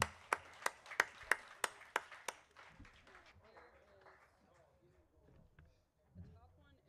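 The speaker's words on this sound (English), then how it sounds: "let's give Johnson Angus Ranch and their family a big round of applause" About eight sharp, evenly spaced claps ring out close by at an Angus cattle dispersal auction in Middletown, Connecticut, then quickly fade as a voice starts talking.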